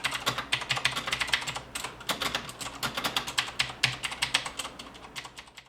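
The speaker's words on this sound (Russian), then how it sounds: "потому что клавиатура щелкает будь здоров" Clicky Cherry MX Blue switches on a Roccat Ryos MK Pro mechanical keyboard, a fast, uneven run of sharp close-up key clicks and taps with no voices, steady through the whole stretch.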